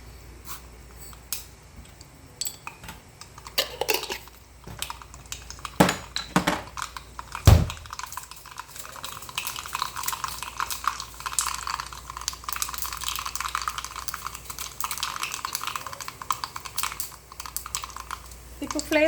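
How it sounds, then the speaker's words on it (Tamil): Mustard seeds crackle and pop in hot oil in a pan for buttermilk rice: dense, irregular, close-up spitting and ticking that runs on and on, with one sharper bang partway through. "கடுகு ஆட் பண்ணுறேன்."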